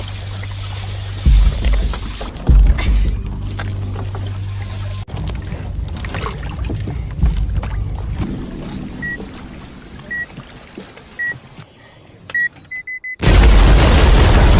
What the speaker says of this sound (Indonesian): Tepat ketika peledak itu meledak,